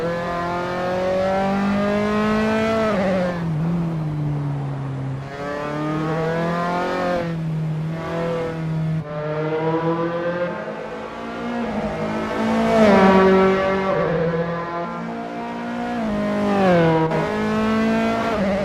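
A Dallara F312 open-wheel race car in Assetto Corsa at Rattlesnake Point screams loud and close, its engine climbing through gears with repeated rev rises and drops over a continuous high-pitched drone.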